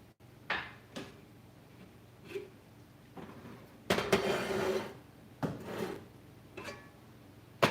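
Pots and a skillet shifted around on a home stovetop while cooking black-eyed peas, giving a series of short clunks, scrapes and knocks with pauses, one louder rattling scrape in the middle, no talk.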